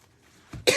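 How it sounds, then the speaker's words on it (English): A single sharp cough bursts out close to the mic in an indoor craft setting, with a smaller throaty catch just before it and quiet room noise around. "Cough, cough."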